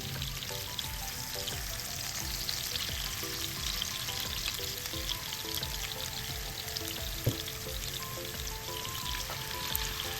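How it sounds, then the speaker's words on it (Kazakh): Onions frying in vegetable oil crackle and sizzle continuously at a moderate level, with small pops and light scraping scattered through the even hiss. "Енді пиязымды мен өсімдік майына жақсылап тұрып қуырып алам."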